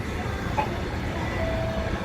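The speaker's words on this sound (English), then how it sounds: "So on track 4 is the inbound New Jersey transit train" An inbound New Jersey Transit train at Trenton station, a low rumbling, steady rail noise with a faint higher tone, heard at moderate distance with no talk.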